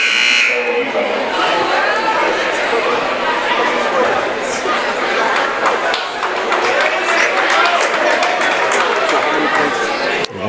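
Buzzer sounding at a high school girls' varsity basketball game between Portland and South Portland, a brief tone near the start over a steady noisy gym crowd with chatter and footsteps throughout.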